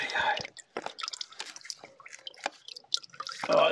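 Engine oil dripping from a Vauxhall Vivaro van during a service, with irregular soft drips and small liquid taps, close by, mixed with faint handling noises and brief hushed sounds.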